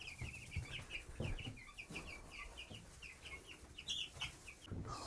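Egg-laying hens cluck nearby in a farm setting, soft overlapping calls that run steadily with a few louder squawks and some light movement noise.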